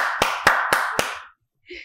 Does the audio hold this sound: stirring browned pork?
no